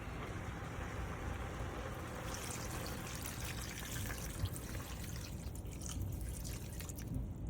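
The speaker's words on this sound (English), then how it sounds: "Add clear liquid." Clear liquid pours into a pot of eggroll soup, a steady continuous trickle and splash of moderate loudness throughout, with no voices.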